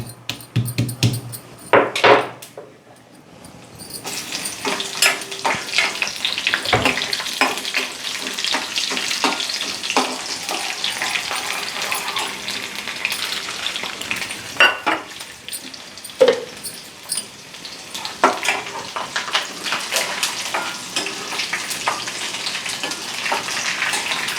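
Crushed garlic fries in oil, a tempering for a coconut and raw mango chutney. A continuous close sizzle runs throughout, with scattered louder crackles and pops and no voices.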